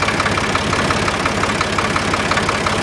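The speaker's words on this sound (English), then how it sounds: "So I figured I'd go out and take out the Ford" A Ford 2600 tractor engine idles in a steady, close, rhythmic chug with a knocking pulse, loud and alone.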